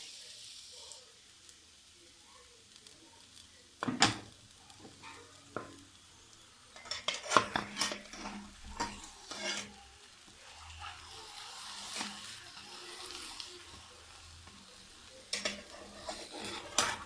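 A beef-stuffed crepe frying in oil in a pan, a soft steady sizzle broken by clinks and scrapes of a utensil against the pan, close and fairly quiet, no talk.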